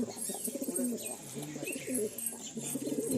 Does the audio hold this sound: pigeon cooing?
yes